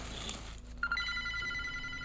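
An unplugged landline telephone rings faintly in a quiet room, giving one short electronic ring that carries on over a low background hum.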